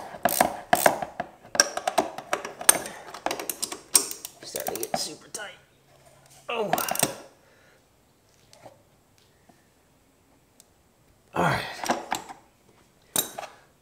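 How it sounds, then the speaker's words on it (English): A 17 mm ratcheting wrench works a rear shock bolt on a Honda Navi motorcycle, giving bursts of close metallic clicking and ratcheting separated by pauses. "we got a 17 ratcheting wrench on the back of this one"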